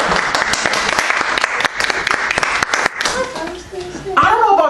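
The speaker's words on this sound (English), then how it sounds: "Give the Lord a hand clap." A church congregation claps hands together, dense, fast clapping filling the first three seconds, then thinning out as a voice speaks over the tail.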